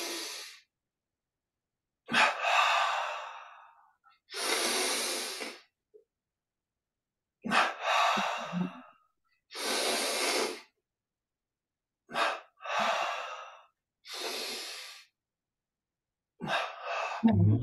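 Slow, deep breaths drawn in and pushed out during a guided yoga exercise, each long airy breath standing alone between stretches of silence, close and fairly loud, with a sharper exhale near the end.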